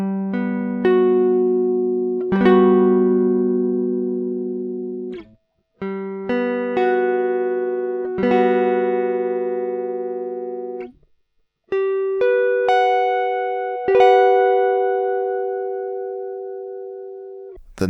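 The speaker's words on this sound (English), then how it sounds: "I'm going to play this chord shape for you now, so you can have a listen and see how it's done in every position." A guitar strums one chord shape up and down the neck in several positions, each chord ringing out clean and sustained with brief gaps between shifts, played alone with no talking.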